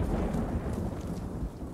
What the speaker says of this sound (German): Warum gewittert es eigentlich schon wieder?